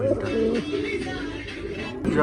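A pair of Danish fancy pigeons cooing from close by, a low repeated throaty call carrying through the whole stretch with faint background noise.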